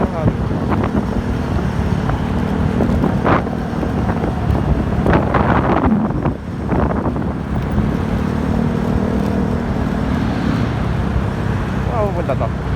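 Steady wind rushes over the microphone during a Mio Gear 125 scooter ride through Metro Manila, with road and engine rumble underneath and a voice speaking now and then throughout.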